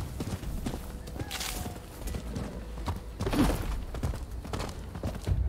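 Horse hooves clip-clop steadily over a busy soundscape in the video game Rise of the Ronin, with a faint whinny and some thumps mixed in.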